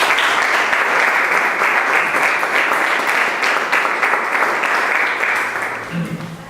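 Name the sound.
audience applause at a book presentation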